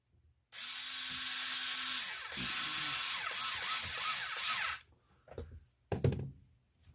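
A screw is driven back into a plastic part of a Tamiya CR-01 Land Cruiser RC car with a small power driver, giving a steady whirring buzz for several seconds, then a few quiet clicks and handling knocks.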